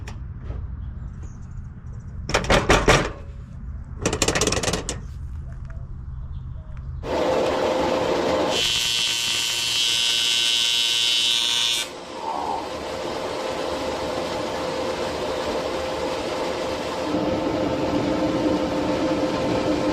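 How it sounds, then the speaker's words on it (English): A TIG welder works an aluminum tabletop. Two short buzzing arc bursts are followed by long, steady, harsh electric buzzing that holds for several seconds at a time at a moderate level. "this was an opportunity for me to practice my TIG welding aluminum"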